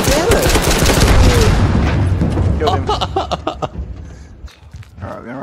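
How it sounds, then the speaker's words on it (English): Shotgun gunfire in the H1Z1 battle royale game: a loud burst of rapid shots up front, then scattered sharper cracks fading off, with a player's voice mixed in. "I shot him like 5 times."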